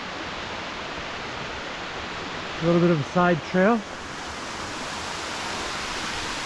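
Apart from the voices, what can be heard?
waterfall on the trail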